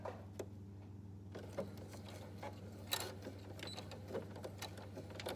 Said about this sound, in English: I'm gonna go ahead and just put a 1/2 inch seam on here.